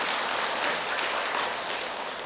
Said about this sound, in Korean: 박수 한번 쳐보세요.